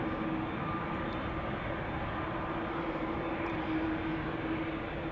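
KLM Boeing 787-9 Dreamliner jet in new livery departing Amsterdam Schiphol for Portland, Oregon: a steady, broad engine roar holding at a constant level throughout, with no voices.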